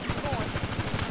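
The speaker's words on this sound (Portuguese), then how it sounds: "os caras tá atirando em mim, mano" Rapid gunfire in GTA V, a steady stream of close shots rattling at an even automatic rhythm for about a second, with voices faintly underneath.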